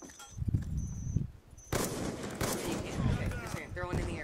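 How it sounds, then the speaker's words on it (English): Video game gunfire aimed at a sensor grenade: a single sharp, loud shot cracks out mid-clip after quieter talk, then a busy burst of noise and voices follows. "I'm gonna shoot the sensor grenade"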